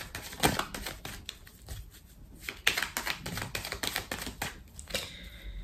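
Tarot cards are handled and laid out on a table in a series of crisp flicks, slaps and soft shuffles, irregular and close, some louder snaps standing out among quieter rustles.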